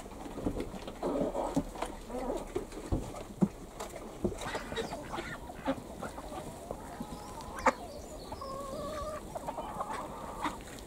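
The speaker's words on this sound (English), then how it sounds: "We've got more chickens" Backyard chickens cluck and murmur in a suburban winter garden, a steady scatter of soft, fairly quiet calls with a few sharper squawks and no speech over them.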